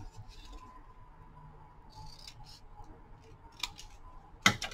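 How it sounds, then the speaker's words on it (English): Scissors snipping through a folded paper puzzle piece in a craft project, faint and close, with a few quiet cuts and a sharp snip near the end, no talking. "so I'm going to cut off that little piece I folded."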